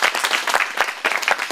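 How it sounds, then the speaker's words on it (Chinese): A crowd claps in uneven bursts at an outdoor groundbreaking blessing ceremony for a village ossuary wall, the applause close and moderately loud, with sharp individual claps in a short spell. "我们给他掌声好不好"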